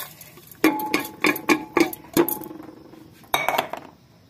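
Rice and water go into a metal pressure cooker in a home kitchen, heard as a run of close metallic clinks and knocks in uneven rhythm, then a final clatter, with no talking.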